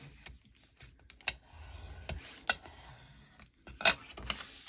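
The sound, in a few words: folding scored 12x12 paper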